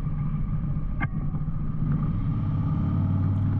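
A 2021 Harley-Davidson Street Glide with a 107 Milwaukee-Eight engine rumbles steadily while riding, a loud continuous low drone with wind noise and no pauses.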